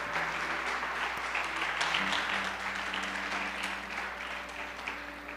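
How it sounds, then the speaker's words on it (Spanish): Congregation clapping in a church service, applauding Jesus Christ; a sustained wash of many hands clapping at moderate distance, slowly fading, with a low steady hum beneath. "Dale un aplauso a Jesucristo."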